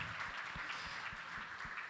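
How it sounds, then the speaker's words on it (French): Faint, distant clapping from an audience at a supply chain directors' awards gala, a steady patter over about two seconds with some low thumps, with no speech. "Donc, applaudissez-vous"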